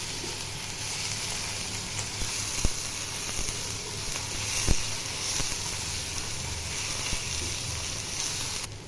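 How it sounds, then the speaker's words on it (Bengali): Ginger garlic paste frying with onions in a pan while cooking spiced taki fish, giving a steady, continuous sizzle and hiss with a few brief clicks and no talking. "আদা রসুনটা ভালো করে পেঁয়াজের সাথে ভেজে নেব।"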